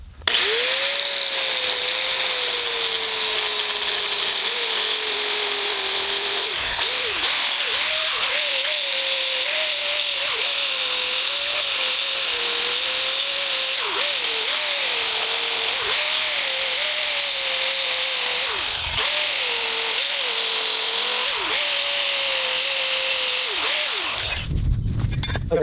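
A loud power tool whines continuously for about twenty-five seconds, its pitch dipping and rising repeatedly as it cuts off rivets on a 1976 Chevrolet El Camino's front suspension, then stops abruptly.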